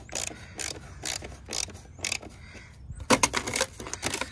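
A Husky ratchet tightens bolts on a 2018 Ram 1500 to 69 foot-pounds, giving repeated rhythmic clicking strokes, close and fairly loud, followed by a quicker burst of ratcheting near the end.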